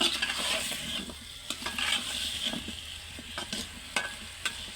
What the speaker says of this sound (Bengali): আমি নাড়াচাড়া করে দেবো যেন সবগুলো মশলার সাথে লেগে যায়